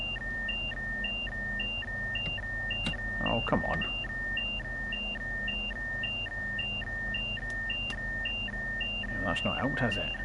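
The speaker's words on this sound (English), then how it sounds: "Why are you still beeping at me?" A steady alternating two-tone electronic beep sounds over and over in a train cab in Train Sim World 3, while someone talks intermittently over it.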